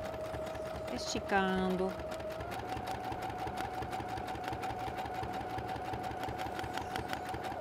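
A sewing machine runs steadily while stitching a plastic travel toiletry bag, a fast even mechanical whir close by, with someone talking briefly over it near the start.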